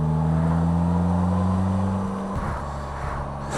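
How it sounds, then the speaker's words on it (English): A Polaris Slingshot engine runs with a steady, smooth low hum, its pitch dropping briefly partway through before settling again. "I like the sound of the engine. It's not buzzy."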